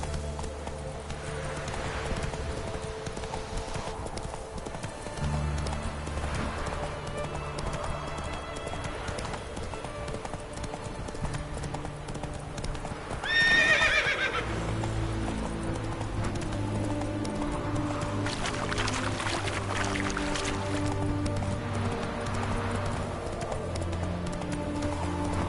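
Horse hooves clip-clop at a steady gallop in The Witcher 3 video game, rhythmic and continuous throughout, with a brief whinny-like burst midway and game ambience underneath.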